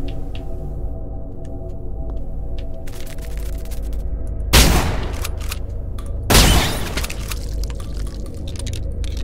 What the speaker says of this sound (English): so I might just shotgun you